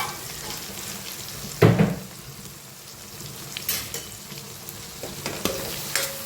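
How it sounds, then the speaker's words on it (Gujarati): Lapsi is stirred in a pan with a soft sizzle beneath it, broken by one louder scrape and a few lighter clinks and scrapes of the spoon. "સરસ મિક્સ કરી લઈએ."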